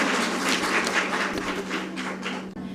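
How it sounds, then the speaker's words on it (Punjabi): An audience welcomes a student onto the stage with sustained applause, a thick, steady patter of many hands clapping at once, close and loud, fading slightly toward the end before a brief cut. "ਤਾੜੀਆਂ ਨਾਲ ਸਵਾਗਤ ਕੀਤਾ ਜਾਵੇ ਰਵਨੀਤ ਦਾ।"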